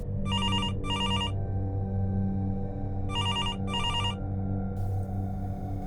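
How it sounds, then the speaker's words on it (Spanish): A telephone rings with two electronic double-trill rings, each pair of short warbling bursts separated by a pause, clear and close over a low background hum. "Pasado el mediodía, el teléfono sonó."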